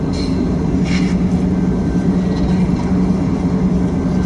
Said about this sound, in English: And now this train is finally moving south.